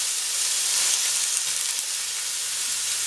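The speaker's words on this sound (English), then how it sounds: "So while this is sauteing" Vegetables (hard pieces such as potato, alongside spinach) sauteing in a pan, giving a steady, loud, even sizzle that fills the whole clip with no talking.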